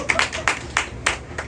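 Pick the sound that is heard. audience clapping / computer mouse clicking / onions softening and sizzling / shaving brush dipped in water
audience clapping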